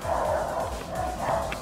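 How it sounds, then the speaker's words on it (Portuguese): Several street dogs bark together outside, a continuous overlapping chorus of yips and bow-wows carrying from a distance, fairly loud and without speech. "Esses são todos os cachorros da minha rua. Fazendo uma sinfonia."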